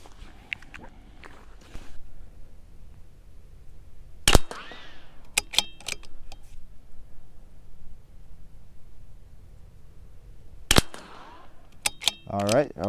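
CZ457 .22 rimfire rifle firing Elite 10X rounds at a 50-yard range, sharp isolated cracks spaced seconds apart with quiet gaps and small handling clicks between shots.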